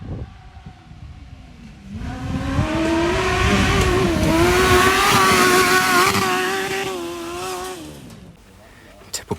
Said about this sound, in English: Love the sound of a sport bike engine at Redline.